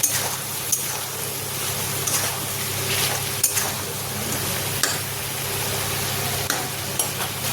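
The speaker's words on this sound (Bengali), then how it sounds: "এর মধ্যে ভেজে রাখা আলুগুলো দিয়ে দিচ্ছি" Fried potatoes go into chicken frying in oil, making a constant close sizzle. Soft knocks and scrapes from stirring recur every second or so, with no talk heard.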